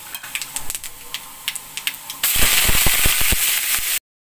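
Curry leaves dropped into hot oil for a curd rice tempering with cumin, chana dal and urad dal: scattered crackles and pops, then a sudden loud, steady sizzle with sharp spitting bursts that cuts off abruptly.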